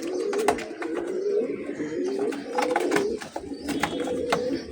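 Giribaz pigeons, including a blue-eyed pair, coo steadily and close by in a rolling, throaty series, with faint wing flutters and small clicks in the background.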